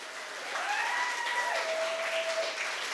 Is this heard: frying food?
no